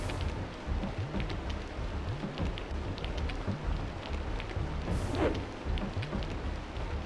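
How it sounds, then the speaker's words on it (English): Steady rain ambience loop from the N64 game Aidyn Chronicles: The First Mage, a continuous soft wash of falling rain with faint low rumbles, no talking. "with all of this game's flaws, the audio loop for the rain sounds wonderful"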